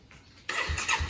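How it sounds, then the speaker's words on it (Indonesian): A Yamaha RX King motorcycle engine starts abruptly after a quiet moment, then runs on loud and close, with low throbbing pulses from the exhaust. "Kita cek sound ya"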